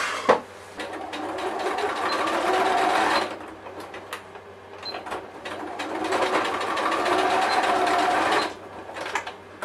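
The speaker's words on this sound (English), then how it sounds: "I'm going to machine stitch along the edge here and then flip over and repeat for the other" Close up, a sewing machine stitches along the edge of a waxed canvas cross-body bag in two long steady runs, with a short quieter pause between them.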